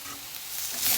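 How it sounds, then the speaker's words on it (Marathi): Cowpea vegetable tipped into hot tempering oil, a bright hissing sizzle that swells louder toward the end of the brief moment. "नाही गाईज मी भाजी बनवते आहे चवळीची. बस फोडणीला टाकलंय"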